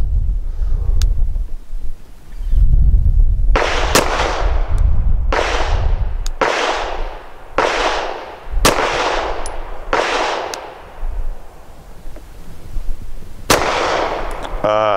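Sig P365 XL pistol fired outdoors, a series of about eight sharp, loud gunshots spaced a second or so apart, with wind buffeting the microphone throughout.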